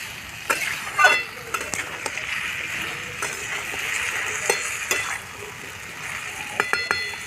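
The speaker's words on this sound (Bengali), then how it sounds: "এক চামচ হলুদ দিচ্ছি ভালো করে একটু নেড়ে নেব" Turmeric is stirred into a pumpkin curry with hilsa fish head in a pan, giving a soft background sizzle broken by repeated spoon scrapes and clinks against the metal.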